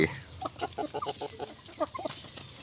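Chickens on a Thai poultry farm cluck in a run of short, soft calls, close by with a faint background murmur; a higher cackle opens the sequence.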